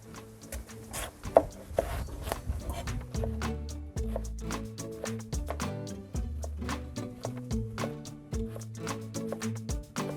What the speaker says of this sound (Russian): а баклажаны не чистим, просто нарезаем хорошим кубиком